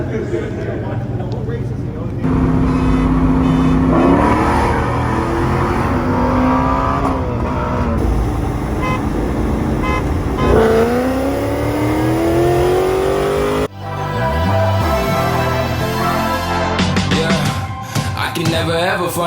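A Ford Shelby GT350's engine revs repeatedly and climbs hard under acceleration, loud and close inside the car, with a clear gear change partway through, while people talk over it.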